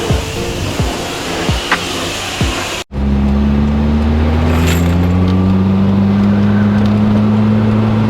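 A Ford Escort RS Cosworth with turbo and four-wheel drive pulls hard, its loud engine and road roar rising after a brief cut, then a steady climbing drone as the car accelerates.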